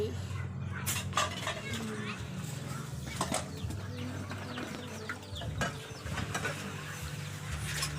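Dishes and bowls being washed by hand at dusk in rural Laos, with scattered clinks and clatters of crockery, a voice talking, and birds and flapping wings in the background.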